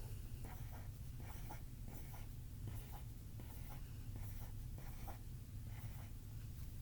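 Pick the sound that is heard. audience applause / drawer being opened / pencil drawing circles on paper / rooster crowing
pencil drawing circles on paper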